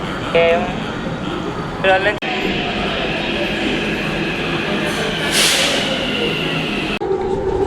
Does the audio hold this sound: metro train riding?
yes